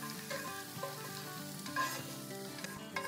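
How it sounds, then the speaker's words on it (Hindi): Hot tempering oil for tadka sizzles steadily as it is poured over a pot of haleem, a continuous crackling fry with faint stirring clinks, close and moderately loud, no talk. "चूल्हे को करते हैं बंद और यहाँ लगाते हैं इसका तड़का"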